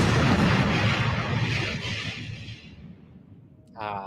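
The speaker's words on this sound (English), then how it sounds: "And then, of course, explosion." A large explosion in an animated Superman episode roars loud and broadband at the start, then slowly rumbles down and fades, with a brief tonal voice-like sound near the end.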